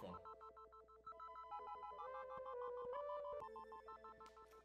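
A cell phone ringtone plays through an incoming call, a melodic electronic tune with steady repeating tones, loud and continuous with no talking.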